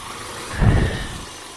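Rough-running car engine, fresh from new ignition coils and spark plugs, gives a short low mid-pitched surge that swells and fades back to a steady idle nearby.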